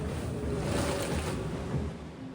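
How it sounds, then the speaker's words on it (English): Strong 38-knot wind roars over open ocean with waves surging and sloshing close by aboard a racing sailboat in the Vendée Globe, a constant blustery rush at sea. "Very strong wind. Still 38 knots."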